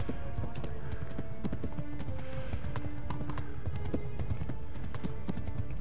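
Horse hooves galloping in Kingdom Come: Deliverance, a fast, steady clip-clop rhythm of close hoofbeats running throughout, with a faint snort or whinny mixed in.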